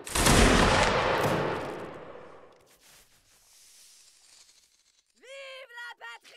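A massed musket volley from a line of soldiers in a Napoleonic Wars line battle game crashes out loud and broad, then its long rumble decays over a few seconds before voices shout briefly near the end.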